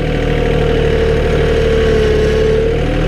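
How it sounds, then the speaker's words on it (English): A John Deere 4105 compact utility tractor engine runs under load with a steady, loud diesel drone and a faint rising turbo whine on top, continuous and close with no talk. "You can hear that turbo spool when it's under load"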